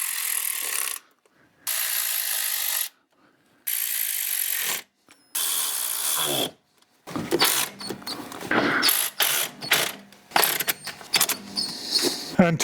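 Ratchet clicking in short bursts while tightening intake bolts on a plastic-mounted throttle body in an offset pattern, loud and close, then quicker irregular clicks and rattles of the tool.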